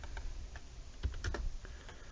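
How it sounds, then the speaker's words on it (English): Typing on a computer keyboard: a quick, uneven run of soft key clicks, close and fairly quiet, with no talking. "If I could type."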